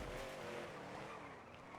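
A car in the GTA V roleplay game drives hard with tires squealing and skidding, a loud, continuous engine-and-tire sound filling the short moment.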